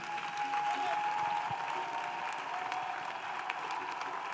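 A church congregation claps together in a steady, even wash of applause, fairly distant and soft, with faint singing or voices beneath.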